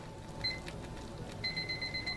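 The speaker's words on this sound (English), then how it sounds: "set a timer for 30 minutes" A kitchen timer beeps while pork cracklins cook on a propane stove: a short high electronic beep, then a faster run of repeated beeps, faint over a low background hum.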